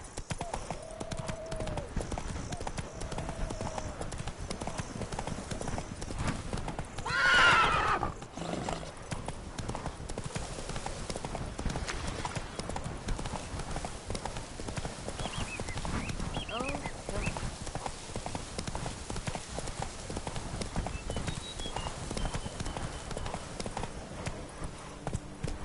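Roach, the horse in The Witcher 3: Wild Hunt – Blood and Wine, gallops with continuous rapid clip-clop hoofbeats close up, a neigh rising briefly near the start, and a voice talking over the hooves.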